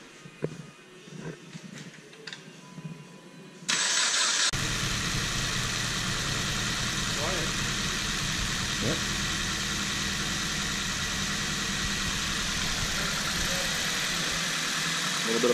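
A car engine cranks and catches after the battery is reconnected, then runs with a steady, loud, rough idle that continues to the end; brief talk and quiet handling noises come before the start.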